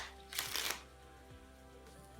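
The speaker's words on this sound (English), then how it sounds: "Give it a little shuffle." A deck of playing cards is given a brief riffle shuffle close by, a soft fluttering burst of about half a second followed by quiet handling sounds, faint overall.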